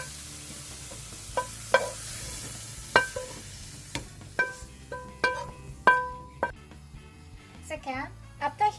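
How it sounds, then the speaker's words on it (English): Squid stir-fried in a hot pan with no oil, heard as scattered clanks and scrapes of a utensil against the pan over a faint sizzle, close up, with a brief voice near the end. "after heating the pan, stir fry the squid without oil to remove the moisture"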